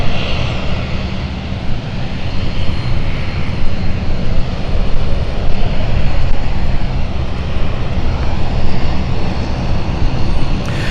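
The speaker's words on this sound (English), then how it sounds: "So there you go, Dublin flight is moving out now." Airliner engines at London City Airport hum loudly and steadily as a Dublin-bound flight taxis out, a continuous broadband roar filling the whole span without talk.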